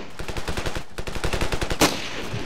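Automatic gunfire in the video game Ravenfield, two rapid bursts of evenly spaced shots, close and loud, broken by a short pause, with a sharper, brighter bang near the end.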